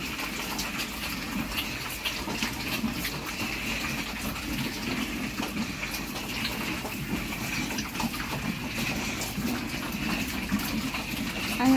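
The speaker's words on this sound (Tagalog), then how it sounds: "ang hina ng tubig" A weak stream of water runs steadily on a small goat farm, a soft continuous splashing hiss that stays even throughout at low volume.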